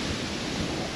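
Strong wind blows steadily outdoors around a parked caravan beneath a tree, a continuous dense roar with no pauses, close and moderately loud, with no voices.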